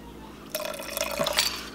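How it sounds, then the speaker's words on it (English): Homemade vanilla extract is poured into freshly melted chocolate syrup, giving a short, soft liquid trickle with faint glassy clinks, close by and quiet, lasting about a second. "I'm going to add in a little bit of vanilla extract. So I'm gonna use my homemade vanilla extract,"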